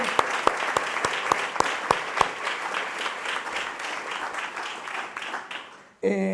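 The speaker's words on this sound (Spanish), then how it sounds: "pido un aplauso para el amigo Pedro" Audience applause at a rural tourism event in the Canary Islands, sustained clapping with loud sharp claps up close at first, fading toward the end before a voice begins speaking.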